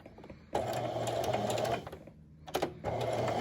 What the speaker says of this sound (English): Back at the sewing machine, I'm going to set my machine for a straight stitch.